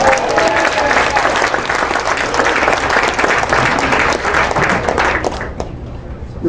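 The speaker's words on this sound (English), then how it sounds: "Give a round of applause." A dinner audience breaks into sustained applause with a faint crowd murmur underneath, holding strong before thinning out near the end.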